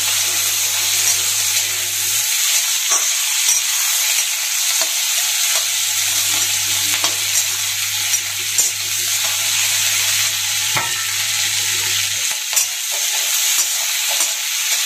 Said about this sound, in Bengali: বেশি না, হালকা ভাজলেই হয়ে যাবে।